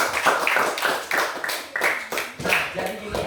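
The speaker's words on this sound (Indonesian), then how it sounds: "Oke, tepuk tangan dulu buat kalian semua." A small group of students clap their hands in a classroom, uneven rhythmic claps close by, loosely synchronized in bursts with no voices over them.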